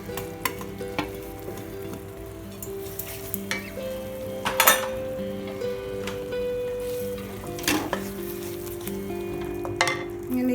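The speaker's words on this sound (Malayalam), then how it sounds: "പിന്നെ നമ്മുടെ ഈ തേങ്ങ വറുത്ത് വെച്ചിരിക്കുന്ന തേങ്ങ ഇട്ട് കൊടുക്കുകയാണ്" Roasted coconut added to a Kerala-style ginger curry cooking in a pan, a steady sizzle with scattered stirring scrapes and clinks of a spoon against the pot, close and alone.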